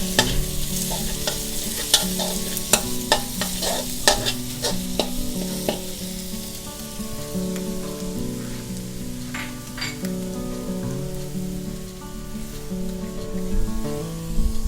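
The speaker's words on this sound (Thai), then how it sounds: "เสร็จแล้วเราก็เอากระเทียมสับนะคะ ใส่ลงไปในน้ำมันเดิมเนี่ยเลยนะคะ ผัดให้พอหอมค่ะ" Chopped garlic stir-fried in leftover oil in a pan, with a steady loud sizzle and repeated sharp scraping clicks of a utensil against the pan throughout, no talking.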